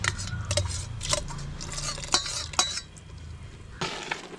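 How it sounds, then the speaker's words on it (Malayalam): Cooked mutton being stirred into a simmering yogurt gravy for Kerala-style mutton biriyani, with a spoon scraping and clinking against the pot in repeated strokes over a steady bubbling sizzle. "മട്ടനും ചേർത്തിട്ട് നന്നായിട്ടൊന്ന് മിക്സ് ചെയ്ത് കൊടുക്കാം"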